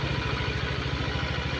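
A Honda Vario 125 motorcycle idling after engine repair, a steady, smooth low mechanical pulse close by, even and regular throughout with no talk.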